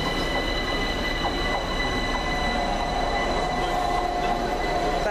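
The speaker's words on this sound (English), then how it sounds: "That is 378217. Our train's in the window there." A London Overground Class 378 electric train runs steadily through a rail station, giving a loud, continuous rumble with high wheel squeal and faint electrical whine throughout.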